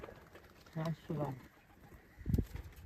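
A few soft pigeon coos in short bursts, close by, with another low cooing sound near the end over faint background noise.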